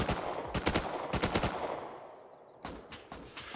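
AK rifle fire in the survival game Rust: several rapid bursts of sharp automatic shots, fairly close and loud, separated by short pauses.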